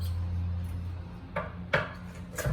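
A knife slices fennel into julienne on a cutting board, giving three sparse, crisp chops in the second half over a steady low kitchen hum, with no voices.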